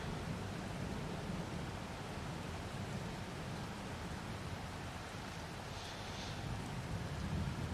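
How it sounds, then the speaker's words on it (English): Steady rainfall in Farming Simulator 22, a dense even hiss of rain with a soft low rumble underneath that continues without a break from start to finish. "Rain, rain, go away."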